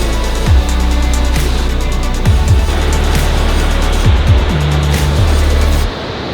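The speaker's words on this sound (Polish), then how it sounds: "dotarliśmy do końca tunelu i widoki na Niagara, na wodospady Niagara zobaczcie sami" Niagara Falls roars in a loud, unbroken wash at the end of a tunnel. A few rising and falling motor-like tones pass through the rush, which drops off abruptly near the close.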